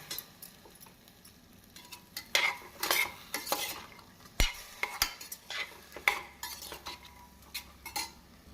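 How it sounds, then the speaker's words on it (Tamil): Vegetables being sautéed in a pan for white vegetable kuruma: soft background sizzle with intermittent scraping stirs and metallic clinks of a spoon against the pan, close but fairly quiet. "ஒரு நிமிடம் நன்றாக நாம் சேர்த்து வதக்க வேண்டும்."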